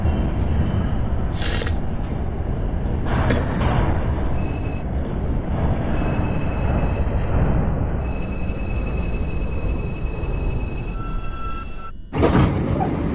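Subway train on a Manhattan-bound 5 local run in the OpenBVE train simulator game, a steady rumbling drive with electronic tones layered on top and a brief sharp burst near the end, with no talking.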